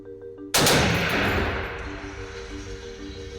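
A machine gun opens fire at an airfield range, a sudden loud burst of rapid shots that rings on and fades, with no talking over it.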